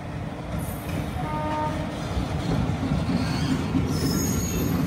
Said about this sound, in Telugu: వ్యాబ్ 4 లోకోమోటివ్ అది